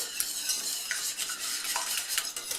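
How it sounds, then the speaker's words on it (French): A utensil stirs a yogurt and egg mixture for a yogurt cake, giving a steady scraping, sloshing texture against a bowl that runs continuously and close, with no voices. "on va tout de suite mélanger, faire le mélange yaourt,"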